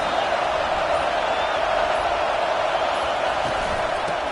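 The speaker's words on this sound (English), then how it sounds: "this crowd trying to help keep him there" Stadium crowd roar in the NCAA 25 college football video game during a Clemson dynasty game, a steady dense wash of cheering noise holding at constant loudness throughout with no distinct individual voices.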